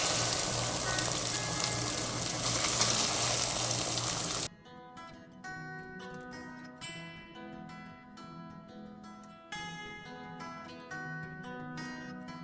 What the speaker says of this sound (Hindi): अब मिक्स कर लेते हैं चावलों को। हल्के हाथों से इसको मिक्स करना है ताकि हमारे चावल टूटे नहीं।